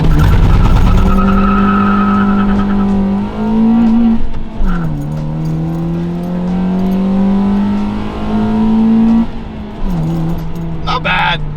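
Honda Fit revving hard at wide open throttle with the e-brake up, engine note climbing in pitch through several pulls with brief drops between shifts, loud and close, with a voice briefly underneath.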